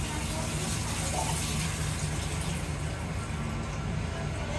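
Steady rushing water fills the space continuously, a close, even pour or running stream with no breaks.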